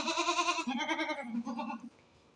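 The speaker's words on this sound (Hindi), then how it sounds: "फिर ये बकरी इनको खाने नहीं देते बकरियों को" Goats bleating right after being given fodder on a farm, a long run of loud, close, quavering cries that overlap and then trail off into quiet.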